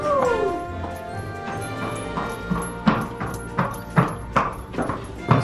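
A mare's hooves clop in a slow, steady walking rhythm toward her stall, fairly close, with voices and other background sounds early on.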